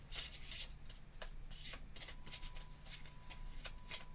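A deck of tarot cards being shuffled by hand, a quiet, steady series of crisp riffling flicks and soft rubbing close by, with no voice over it.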